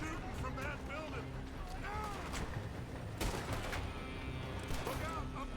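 Gunfire from a building in a shooter game: scattered shots and bursts crack through a busy battle mix, with voices and whistling effects layered over steady background noise.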